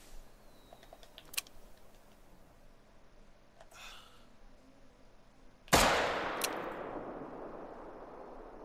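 A single loud shot from a .44 handgun fired at caribou outdoors cracks suddenly and rolls away in a long, fading echo after a stretch of quiet ambient noise.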